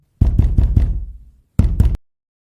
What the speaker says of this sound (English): Then came the pounding on the door, the wood groaning under the force of the blows.